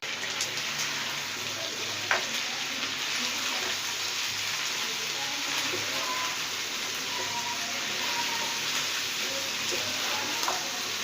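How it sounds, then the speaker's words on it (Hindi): Mutton korma with dry spices such as coriander powder and crushed dried chilli sizzling in a pan, a steady close hiss of frying that continues evenly with faint kitchen clinks and no talk. "एक मिनट तक इसको मज़ीद भूनेंगे।"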